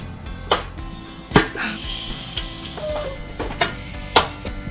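Tortilla dough sizzles as it is pressed on a BrentWood TS-128 electric tortilla maker, with a steady hiss broken by several sharp clacks and knocks of the press and utensils.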